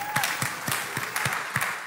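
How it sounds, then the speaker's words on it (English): Church congregation applauding in a steady, rhythmic round of clapping that fills the room, soft and even at moderate distance. "Let's give them a round of applause."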